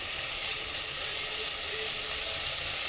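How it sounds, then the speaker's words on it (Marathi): Khichdi sautéing in hot oil gives off a steady, soft sizzling hiss, quiet and continuous with no voices. "आता हे छान तेलामध्ये असं परतून घ्यायचं मस्तपैकी"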